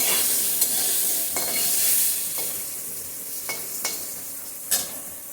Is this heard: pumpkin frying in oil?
yes